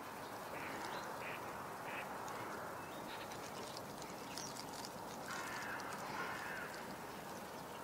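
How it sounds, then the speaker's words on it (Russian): A mallard duck quacks in a few short bursts on a lake, somewhat distant and fairly faint over steady outdoor background noise. "Закрякала кряква."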